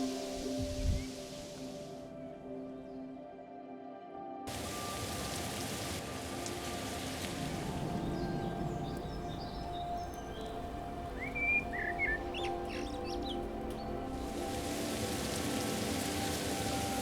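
Rain showers down on a glass roof overhead, a steady, dense patter of drops heard from close by for the whole stretch, with a few faint bird calls now and then and no talking.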